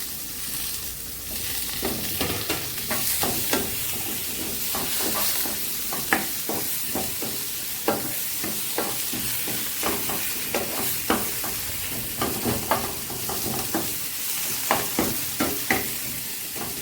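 Tomato stir-fried with browned onions in a pan for an egg curry, a soft continuous sizzle punctuated by repeated sharp spatula scrapes and clacks, no talking.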